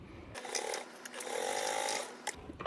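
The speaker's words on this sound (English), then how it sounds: "we're going to top stitch along that edge that we just sewed with a 1/8 seam allowance" A sewing machine top stitches along the edge of a tote bag seam with a 1/8 inch allowance, a short close whirring run of about two seconds with a faint click at start and end.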